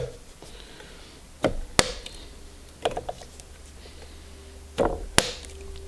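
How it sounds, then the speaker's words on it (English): A small torque driver tightens scope mount screws to 20 inch-pounds on a Burris handgun scope for a Smith & Wesson 460 Magnum. Sharp clicks and ratcheting snaps come in scattered clusters, close and clear over a quiet background. "This is a little torque driver. We're going to do 20 inch-pounds on this."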